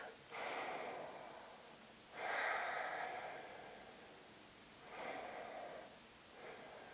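Three slow, deep breaths during a yoga class, each a long, airy inhale or exhale fading out between them, close and quiet, followed by a shorter fourth breath.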